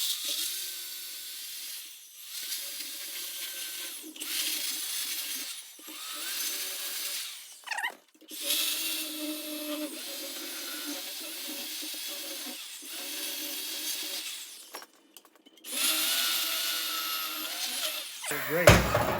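A power tool cuts into the sheet-metal floor of a 1962 Ford Falcon, running in steady bursts of high, whining grind separated by short pauses, close and fairly loud throughout.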